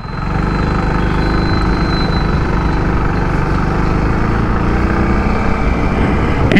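A TVS XL100 moped's small single-cylinder engine running steadily at mid revs, a continuous loud drone with no talk over it.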